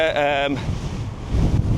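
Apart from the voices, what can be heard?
wind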